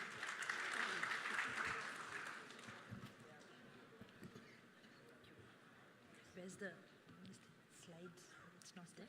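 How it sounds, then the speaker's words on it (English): An audience at a startup conclave on animal husbandry and dairying applauds to welcome a speaker, a dense burst of clapping that fades as a voice begins speaking. "Can we please welcome her with a warm note of applause?"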